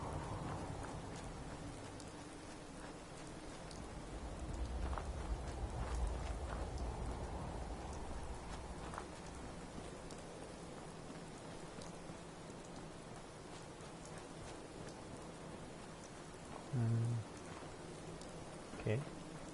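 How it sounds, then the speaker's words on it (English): Rain in the video game Fallout 4 hisses as a steady wash across the scene, with soft low rumbles and a few brief thumps, under quiet game ambience. "Come on, Rain, go away."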